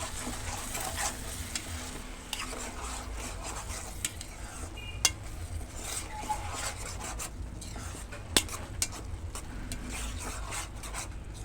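A spoon stirs cucumber and tomato curry in a pot, with soft scraping and rubbing against the metal over a low simmering sizzle, plus a couple of sharper clinks; quiet and close.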